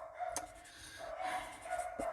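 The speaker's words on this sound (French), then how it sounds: "vous inquiétez pas si vous entendez les chiens," Dogs in a home bark faintly in the distance as someone comes back from work, a few short separate yaps spread across a quiet background.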